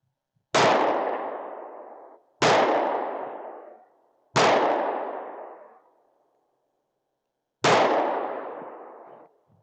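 Four separate sharp shots fired at a target outdoors, each a loud, close crack with a decaying echo tail, spaced about two seconds apart with a longer gap before the last, no talking.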